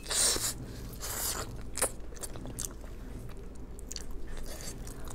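Close, crunchy biting and wet chewing on spicy pig trotters, with several sharp crunches and steady mastication noises, no talking.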